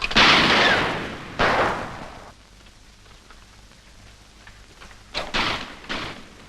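Gunfire in a 1937 film scene: two loud, booming volleys roughly a second apart, then a quiet stretch, then another pair of sharp blasts with decaying echoes near the end.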